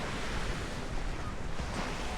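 Sea waves bashing against the rocks beside a seaside promenade at Seaburn, Sunderland, a loud continuous rushing surf roar mixed with wind buffeting the microphone.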